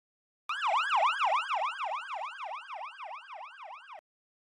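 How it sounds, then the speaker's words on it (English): An ambulance siren wails in a fast, repeating up-and-down sweep, loud and clean with nothing else behind it, lasting about three and a half seconds before cutting off abruptly. "ambulance,"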